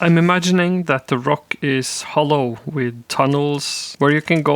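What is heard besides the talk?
No distinct noise like a dog, phone or traffic.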